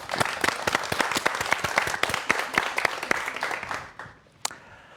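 Audience applause welcoming a professor's science lecture on microbes, a burst of distinct, fairly close hand claps in a quick uneven rhythm that thins out and fades near the end, with one last sharp clap.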